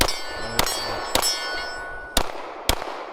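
Airgun pellets strike a GForce RPX9 turglocken steel target, giving four sharp metallic clangs spaced about half a second to a second apart, each ringing briefly over a steady background.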